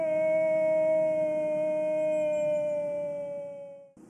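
A hunter imitates a wolf howl to lure wolves in the Mongolian steppe at minus thirty degrees. A single loud, steady, long-held howling tone fades and breaks off at the end.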